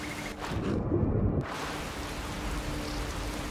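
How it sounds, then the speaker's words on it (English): Steady rain falls across the open landscape of the video game Skyrim near a village, a constant soft hiss that swells briefly louder near the start before settling into an even wash, with no talking. "it already started raining"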